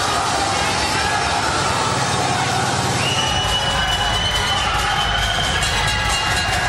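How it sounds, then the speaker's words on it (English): A big arena crowd in Manchester roars steadily throughout, cheering behind boxer Ric Barhill during a fight with Gago Drago, a dense continuous wash of voices with a higher shout rising midway. "we can hear the crowd absolutely getting behind Ric"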